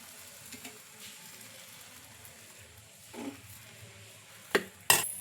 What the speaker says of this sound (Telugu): నేను ఇక్కడ ఒక గరిటె పిండిని అయితే వేస్తున్నా. ఇలా పిండి వేసి లైట్గా స్ప్రెడ్ చేసుకోవాలి.